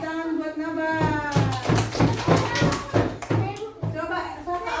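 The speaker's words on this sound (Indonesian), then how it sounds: "Tepuk tangan buat Naban" A class of children claps together for a classmate named Naban, a burst of rapid, bright hand claps that runs through most of the clip alongside children's voices and an adult's speech.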